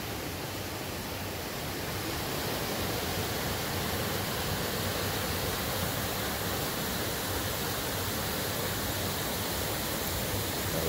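Smith Creek rushing steadily through a gorge, a constant loud wash of flowing water with no other sounds.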